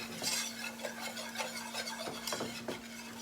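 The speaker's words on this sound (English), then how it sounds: "I like to use the whisk and get it all stirred up in there." A whisk stirs flour in a pan while browning it for oven steak, giving soft scraping and scratching strokes at an irregular pace under a steady faint sizzle, fairly quiet and close with no talk.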